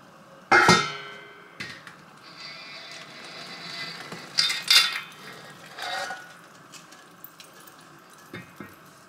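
Black cake mixture gets scraped out of a big mixing bowl, a series of irregular clanks and scrapes from a utensil against the bowl, with one sharp knock near the start and softer rubbing strokes after.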